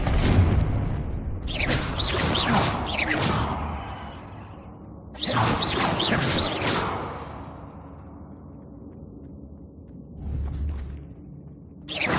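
In the video game Hogwarts Legacy, the Confringo fire spell bursts into two booming explosions with whooshing, crackling tails a few seconds apart. A smaller thump follows near the end, all loud and close with no talk.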